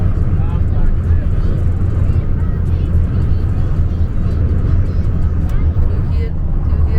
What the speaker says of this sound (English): This is the wind, actually, this noise.